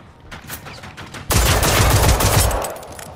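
Loud gunfire in Generation Zero, a sparse patter of shots that gives way to a sustained, close, dense burst of automatic fire before fading slightly.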